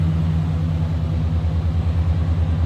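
A 1988 GMC Sierra K1500 SLE 4x4 pickup idles steadily with a stock exhaust, a low, even, pulsing rumble heard close by from around the back of the truck.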